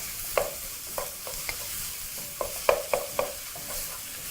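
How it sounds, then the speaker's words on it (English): A wooden spoon breaks up lean minced meat in a pan, knocking and scraping against the metal in a loose rhythm of soft taps over a steady background sizzle. "begin to break that big chunk of meat with your wooden spoon"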